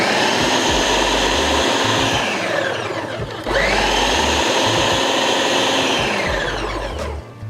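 A blender purees a jerk chicken marinade, a loud steady whir that dips briefly midway and picks back up, running close and alone with no talk.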